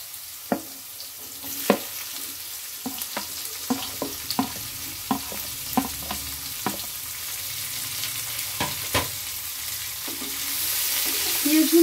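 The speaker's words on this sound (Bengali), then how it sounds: "এর মধ্যে দিয়ে দেবো কুচিয়ে রাখা পেঁয়াজ।" Chopped onions frying with potatoes in a pan give a steady close sizzle, broken by sharp utensil clicks and scrapes at irregular intervals. The sizzle swells louder toward the end.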